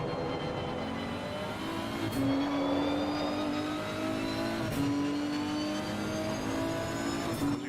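Race car engines in the Real Racing GT3 video game, including a Ferrari, roar loudly throughout with rising and falling revs as gears shift, heard from an onboard view alongside other nearby cars.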